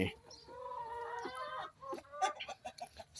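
Laying hens around a nest area give drawn-out, tonal clucks followed by a run of shorter, choppy clucks, close and moderately loud.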